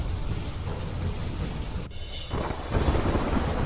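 Heavy monsoon rain pours steadily in Rudraprayag, Uttarakhand, with a sharp thunder crack partway through and a swell of louder downpour afterward, no voices present.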